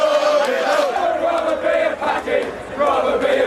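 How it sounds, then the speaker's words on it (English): A large crowd of football fans chants loudly at a match, rough massed voices rising and falling in waves for several seconds, with no single speaker standing out. "racist chanting from a section of the crowd"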